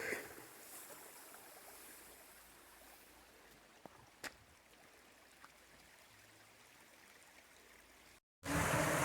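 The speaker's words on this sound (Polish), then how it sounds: "siedzenie wzdłuż takiego potoku, który nam tu ciągle szumi. Małe takie wodospadki się robią." A mountain stream with small cascades rushing beside a hiking trail, a faint, steady wash of water throughout, broken by a couple of small knocks and a louder burst at the very end.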